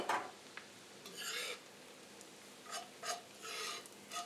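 Flour being stirred in a pan for chicken gravy, giving soft intermittent raspy scrapes in several short bursts, quiet and close with pauses between strokes.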